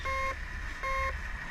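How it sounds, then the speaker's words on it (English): Two steady electronic beeps from a drone lying underwater, evenly spaced and fairly loud, sound through a muffled underwater hiss. "Here's some more beeping."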